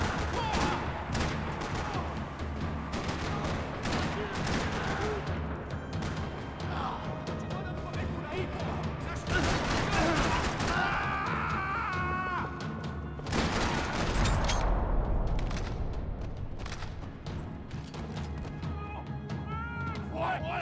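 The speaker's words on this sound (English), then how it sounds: "Another parking lot rattling with gunfire." Sustained bursts of rapid gunfire with crashes and booms in a parking lot in the video game Max Payne 3, dense and loud throughout, with a voice speaking in between.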